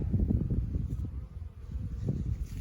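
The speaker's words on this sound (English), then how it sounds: "Oh yeah, that's a lot of bees." Dense, continuous buzzing of many honey bees close by, a busy swarm humming with slight rises and dips in intensity.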